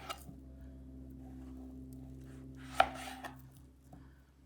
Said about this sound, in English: And then what you do, you cut it in kind of wedges.